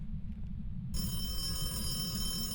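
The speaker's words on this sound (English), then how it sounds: "I heard the phone before" A telephone rings in the ghost-hunting game Phasmophobia, a steady electronic bell tone that starts abruptly after a low rumbling quiet and carries on evenly, moderately loud, with no one talking.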